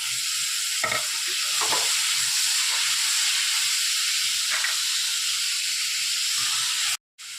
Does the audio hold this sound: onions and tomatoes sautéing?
yes